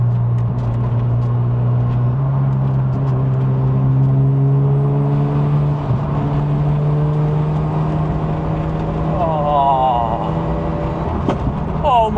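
Sports car engine revving hard while driving, climbing through gears with rising whine and snappy shifts, loud and close from inside the cabin, a voice briefly heard over it.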